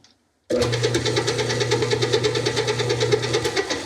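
A stand mixer fitted with a paddle starts abruptly after a moment of silence and runs steadily, a loud motor hum with a rhythmic pulsing churn as it works rugelach dough.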